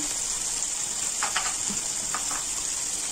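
Onion and garlic paste with salt, turmeric and cumin powder sizzles steadily in a pan for a katla fish curry with kakrol, a continuous frying hiss with a few faint stirring scrapes.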